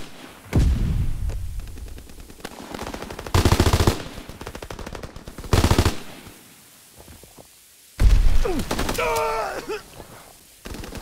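Aircraft strafing-run machine-gun fire in a combat video game, several loud rapid bursts of gunfire a couple of seconds apart, separated by quieter battlefield noise, with a short warbling electronic tone near the end.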